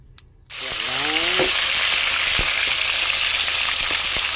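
Tilapia dropped into hot cooking oil, starting with a brief quiet moment and then erupting into a loud, steady, close sizzle of frying that continues unbroken with faint scraping clicks.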